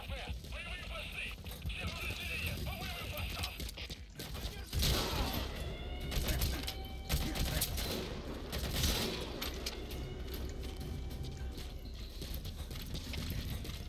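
Rapid gunfire from a heavy weapon in the stealth action game Metal Gear Solid V: The Phantom Pain, with bursts of shots and impacts over dense game ambience and effects, loud and continuous throughout.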